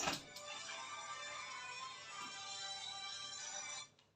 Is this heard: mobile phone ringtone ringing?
yes